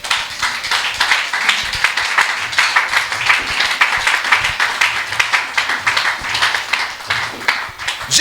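A church congregation claps and cheers in praise of God, dense rapid applause sustained throughout and loud, filling the room.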